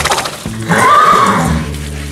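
A horse at a stable lets out one loud, close whinny that rises and wavers for about a second, with low background noise around it.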